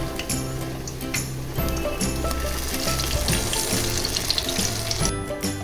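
Cauliflower malpoa frying in ghee and being flipped: a loud, dense, continuous sizzle and bubbling up close, with light utensil knocks over it.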